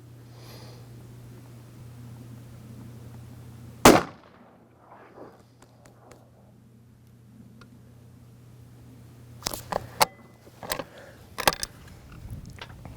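A Remington Model 7 rifle in .17 Remington Fireball fires sharp, fairly close shots: one isolated crack, then a quicker cluster of several reports a few seconds later, over a quiet outdoor background hum.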